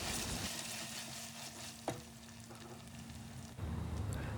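Ginger garlic paste fries with onions for mutton biryani, a steady moderate sizzle with a faint hum, one brief clink partway through, and a louder burst of frying toward the end.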